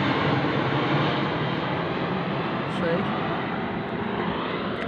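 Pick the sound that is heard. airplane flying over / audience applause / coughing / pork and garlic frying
airplane flying over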